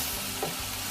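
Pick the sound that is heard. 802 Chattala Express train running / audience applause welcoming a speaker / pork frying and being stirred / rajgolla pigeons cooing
pork frying and being stirred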